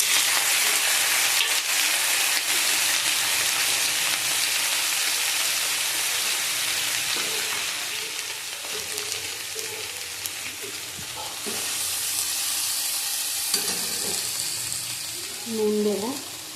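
Radish greens with a dried red chilli frying in a hot pan, a steady close hiss and sizzle that softens midway, then brief stirring scrapes and clatter near the end.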